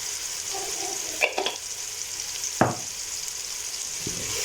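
A teaspoon of cumin seeds fries in hot oil in a pan with a low, steady sizzle, punctuated by a couple of sharp utensil clinks and taps close by.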